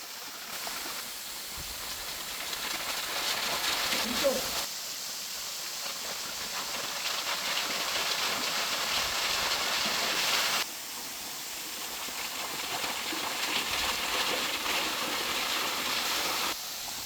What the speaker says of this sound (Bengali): কি অসম্ভব সুন্দর একটা ঝর্ণা দেখেন কি বিস্তীর্ণভাবে পানি পড়তেছে